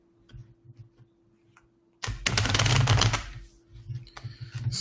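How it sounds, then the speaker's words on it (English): A deck of cards is riffle-shuffled close by, a dense fluttering burst of about a second followed by softer tapping and handling of the cards, with no talk. "So let me shuffle the deck here."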